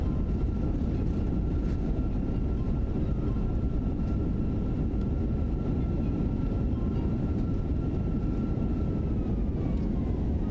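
An Fenix A320 in MSFS 2024 rolls out after landing with thrust reversers deployed, producing a loud, steady, broadband jet roar with a faint whine running underneath.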